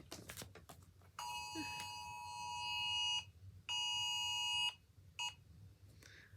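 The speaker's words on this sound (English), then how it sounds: "you heard that alarm, right?" An electronic alarm beeps in two long steady bursts of about two seconds each, followed by a short third burst, with brief gaps between them, loud and clear over a quiet background.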